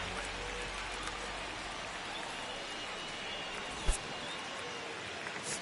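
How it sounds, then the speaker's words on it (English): Steady rain falls on a ballpark during a weather delay at a Rays–Cardinals Opening Day baseball game, a continuous even hiss with one brief thump near the end. "The rain is here, and it doesn't look like it's going away anytime soon."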